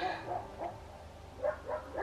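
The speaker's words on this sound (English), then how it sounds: "You can probably hear the dogs bark" Dogs barking at a dog shelter in Bulgaria, a few faint yips and barks in short bursts, distant and spaced apart.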